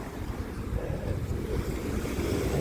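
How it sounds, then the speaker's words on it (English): Ocean waves crash onto a Tasmanian beach in winter, a loud, continuous roar of surf churning close by, with wind rushing across the microphone and no voices. "Just shows you how much force is in those waves."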